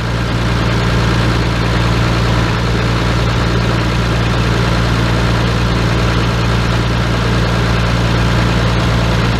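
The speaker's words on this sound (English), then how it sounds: "This thing's a Perkins" Perkins diesel engine in a White 8700 tractor, idling loud and close with a steady, deep, even rumble that holds unchanged throughout, no voices.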